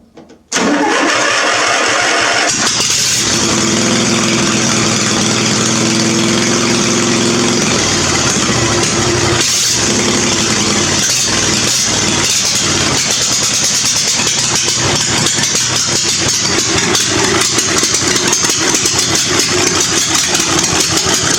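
Old Murray lawn mower engine with a dirty carburetor cranking and catching, then settling into a loud, steady close-up idle that runs on without a break.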